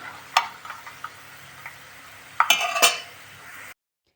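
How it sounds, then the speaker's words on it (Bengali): Peanuts frying in a little oil in a pan, stirred with a utensil: a soft steady sizzle broken by sharp metallic clinks and scrapes, scattered early and clustered near the end before cutting to silence. "একটু বাদাম ভেজে নিচ্ছি তো বাদামগুলো অল্প এরকম তেলে এরকম একটু অল্প নেড়ে"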